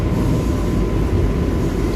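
A steady, broadband rumble and rush of a Mahalaxmi–Borivali AC slow local train running in parallel with a Humsafar Express. The continuous noise holds level throughout, with no voices.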